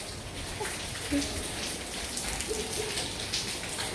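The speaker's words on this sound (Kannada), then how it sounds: "ಮಳೆ ಬೇರೆ ಬರ್ತಾ ಇದೆ" Steady rain falling outdoors during a festival day, an even hiss of drops with no gaps, and faint voices underneath.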